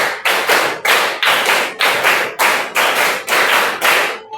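A group of people claps hands together in a steady rhythm, about a dozen loud, close, evenly spaced claps in a classroom setting, with no talking over them.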